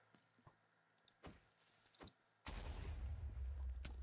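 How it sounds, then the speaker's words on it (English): An explosion goes off in the Minecraft video game, a sudden loud blast at mid-clip that holds as a dense, sustained roar to the end, after a few faint clicks and taps. "You just exploded."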